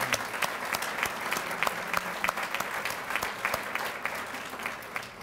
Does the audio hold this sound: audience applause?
yes